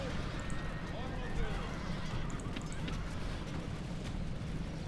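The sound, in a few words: horses neighing in battle, Rome: Total War video game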